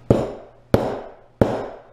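Three sharp, evenly spaced hammer taps on wood, each ringing briefly before fading, close and loud.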